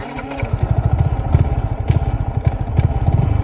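A modified Yamaha MT-15 motorcycle engine fires up and settles into a loud, close, lumpy idle with rapid, uneven exhaust pulses.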